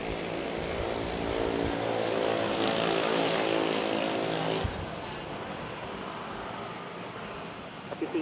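An aircraft takes off at Manila's Ninoy Aquino International Airport, a steady loud propeller-engine roar with broad rushing noise that swells and then gradually eases as it departs, heard from nearby.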